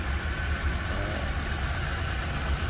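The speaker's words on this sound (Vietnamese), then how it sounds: "máy nổ thì êm ái nhá, không có tiếng động lạ gì" A 2009 Hyundai Getz petrol car engine idles smoothly and steadily at close range, a continuous low hum with even texture and no knocks or odd noises, heard alone without voices.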